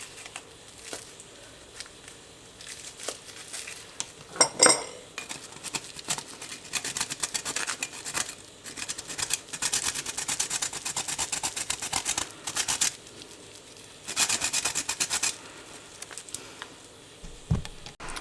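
A hard wedge of parmesan is grated by hand over a dish in a home kitchen, making soft, dry rasping strokes in uneven bursts, quiet and close.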